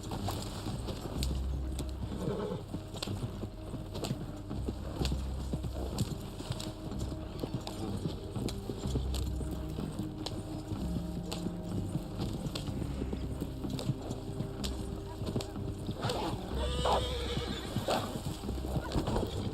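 In the Red Dead Online video game, a horse's hooves clip-clop steadily along, and the horse whinnies a couple of times. Occasional faint talk sits under the hooves.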